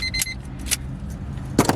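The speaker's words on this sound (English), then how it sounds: "as you can see there, the car starts." A car engine cranks and starts on a traditional non-chipped key, with keys jangling in the ignition by the steering column, leaving a low steady idle rumble under short metallic clinks.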